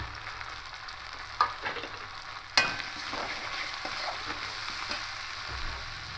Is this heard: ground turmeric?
yes